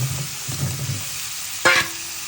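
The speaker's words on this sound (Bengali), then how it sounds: "এখন আমি মিষ্টি কুমড়াটা দিয়ে দেব" Sweet pumpkin pieces go into hot oil in a pan, bringing a steady close sizzle with stirring scrapes, and a brief horn-like toot sounds near the end.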